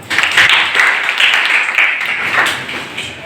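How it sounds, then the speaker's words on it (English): A ninth-grade school class claps together in a brief, loud burst of applause that stays dense and even throughout. "Clap for them."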